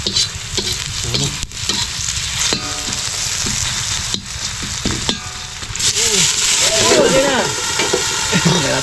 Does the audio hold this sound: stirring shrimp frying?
yes